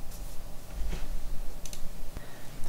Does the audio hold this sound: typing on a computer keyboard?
yes